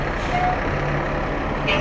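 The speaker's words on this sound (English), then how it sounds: "Hey, I like your truck." A truck from an excavating, trucking and construction business rolls past in a town parade, its engine rumbling steadily up close with a brief reversing-style beep tone, while voices carry on in the background.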